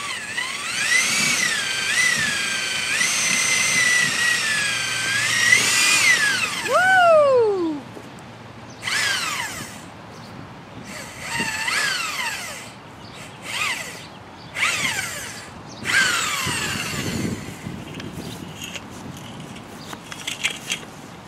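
A DeWalt DWD450 drill reverses a horizontal boring auger out of clay and gravel, giving a close, loud, continuous whine with falling and rising pitch sweeps and intermittent bursts, pauses and restarts, with no talk.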